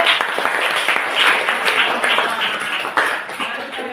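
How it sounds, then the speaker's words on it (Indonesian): Classroom applause during a lesson on breathing, a dense wash of many students clapping at once that stays steady and fairly loud for the whole stretch, with no talking over it. "Ya, tepuk tangan dulu."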